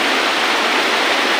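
Fast-flowing river water rushes in a dense, loud, continuous roar close by, with no other sounds.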